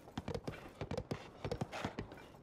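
Horse hooves clip-clopping in the video game The Legend of Zelda: Tears of the Kingdom, a quick irregular run of clear, distinct hoof strikes at moderate level.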